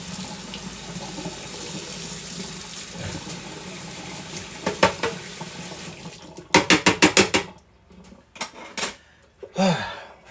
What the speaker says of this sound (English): just going to go ahead and rinse this off